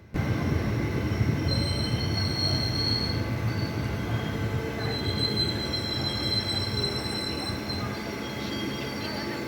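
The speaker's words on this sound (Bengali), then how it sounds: "এই ট্রেন পৌঁছে গেল তার যাত্রাপথের প্রথম স্টেশন তারাপীঠ রোড স্টেশন।" The Ma Tara Express rolls into Tarapith Road station: a continuous close, loud rumble of railway wagons with high metallic wheel squeals rising and fading over it, and no talk.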